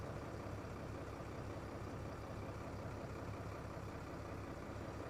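A 1993 Dodge D350 pickup with a Cummins diesel, revived after more than 15 years in a swamp, idling in a low, steady, rhythmic rumble that is even and unbroken, with no talk.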